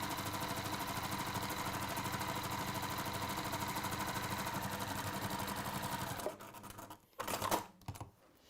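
Sewing machine fitted with a quarter-inch foot stitching fabric, a fast even rattle running steadily for about six seconds before slowing, stopping and giving a few short final bursts.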